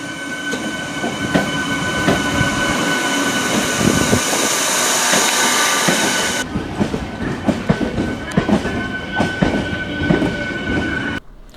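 A MEMU electric passenger train running on rails, with steady loud rolling rumble and rhythmic wheel clatter throughout, the high hiss dropping away partway through as the cars continue clacking past.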